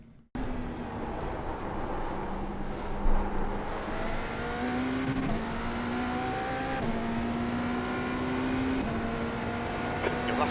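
A BMW LMDh race car in iRacing laps the Nürburgring GP circuit, its engine droning loudly and steadily with repeated upshifts and pitch climbs, heard from the cockpit throughout.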